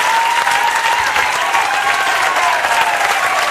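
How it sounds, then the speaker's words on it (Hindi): Loud, sustained applause from an audience clapping for girls and women being praised at a talk, a dense even roar of hands lasting the whole stretch with no voices over it. "जोरदार ताली बजाओ इनके लिए"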